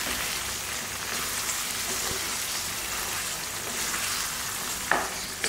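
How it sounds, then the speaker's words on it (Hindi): Mutton karahi masala with coriander, crushed red chilli and black pepper roasting in a pan, giving a steady, fairly quiet sizzle and fry with a couple of sharp scraping clinks near the end. "इन सबको ऐड करके इसे भी अच्छे से भून लेंगे।"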